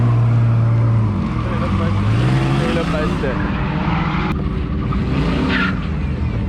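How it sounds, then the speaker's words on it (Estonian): A car drives and drifts, its engine note rising and shifting in loud, steady revving, with a person speaking briefly over the noise. "Nüüd läheb selle auto omanik selle autoga sõita."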